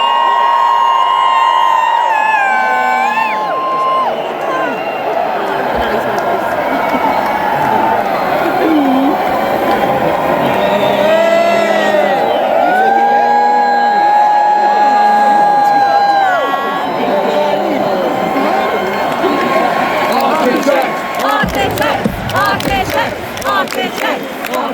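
A huge arena crowd at a metal concert at London's O2 Arena roars, cheers and screams continuously, loud and dense, with shouting voices rising out of the wall of noise.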